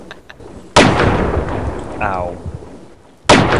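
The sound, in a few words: gunshot in a video game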